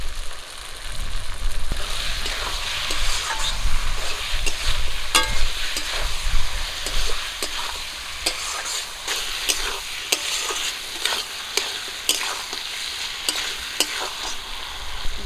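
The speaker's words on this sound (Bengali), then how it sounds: "জিরা সর্ষে বাটাটা দেওয়ার পর কিছুক্ষণ একটু ভাজবো।" Cumin and mustard paste fries in a pan for silver carp fish curry, a steady close sizzle broken by frequent scraping and clinking stirs.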